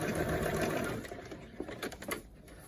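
Sewing machine stitching the side seam of a lined zipper pouch, a quiet rapid whirring run that slows and stops into a few soft clicks and handling noises.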